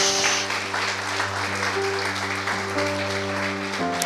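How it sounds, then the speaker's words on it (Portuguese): Applause from a church congregation, a broad wash of clapping under sustained organ or keyboard chords, steady for about four seconds. "Vamos aplaudir a Deus"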